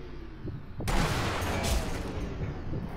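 Sniper rifle fire in Sniper Elite V2, a sudden loud shot near one second followed by a dense, sustained burst of gunfire and battle noise that fills the rest of the moment.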